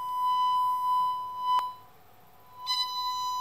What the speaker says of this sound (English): here I drove them with a 1 kHz square wave